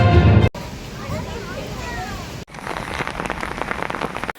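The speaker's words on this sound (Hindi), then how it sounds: "तेज आंधी के साथ बारिश शुरू हो गई" Heavy rain pours steadily during a Kal Baisakhi storm near Asansol, a dense hiss of drops on surfaces that continues after a brief burst of voices at the start and a sharp cut.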